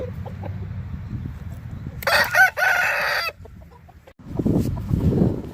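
A rooster crows loudly and nearby in one long call, with clucking fowl and other farmyard sounds before and after it.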